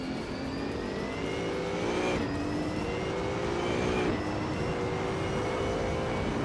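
Race cars scream along in a racing video game, one engine's whine climbing in pitch and then dropping at two gear changes, over a constant rumble of other engines, loud and close with no talking.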